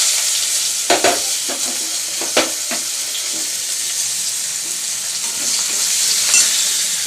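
Onion goes into a pan of already fried potato and papaya, giving a steady close sizzle with a few clattering stirs near the start.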